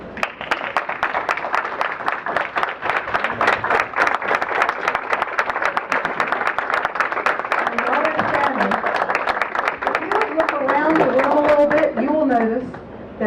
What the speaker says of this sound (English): if you would just stand and let us applaud you